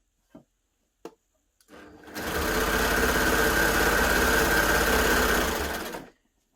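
A Baby Lock Gloria combination machine runs a decorative stitch, a loud steady mechanical whir with rapid rhythmic needle beats lasting about four seconds after a few faint clicks, then stopping abruptly.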